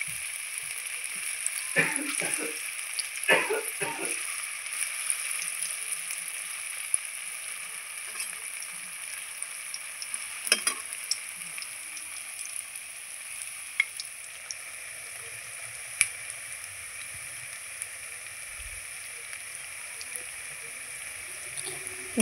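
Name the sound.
frying semolina and potato snacks in oil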